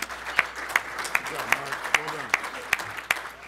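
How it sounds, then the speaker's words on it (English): Sparse audience applause for a newspaper columnist at a public-policy talk, a handful of distinct, evenly spaced claps standing out over soft murmur and a voice speaking. "Let's have a round of applause for Mark Brown."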